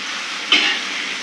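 Fish pieces for Tirunelveli-style meen varuval frying in hot oil, a steady broadband sizzle with a brief louder crackle burst when the fish goes in, close and continuous.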